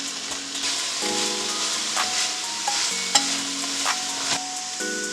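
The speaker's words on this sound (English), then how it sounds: "Gonna give this a stir, mix it all together" Vegetable egg roll filling stirred in a pan, with a continuous hiss of frying and repeated spatula scrapes and clinks against the metal, close and steady with no voices.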